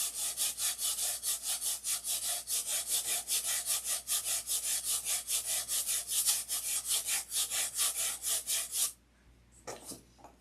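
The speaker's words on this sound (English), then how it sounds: "we need to sand these up" Rhythmic back-and-forth abrasive strokes on wooden parts of a Sig Magnum build, loud and steady for about nine seconds before stopping, followed by a couple of faint handling sounds.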